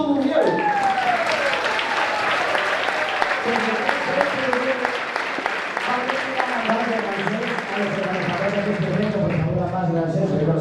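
An audience applauds an Asturian folk group at a Christmas music gathering, with steady, dense clapping throughout. Voices and tonal sounds carry over the clapping.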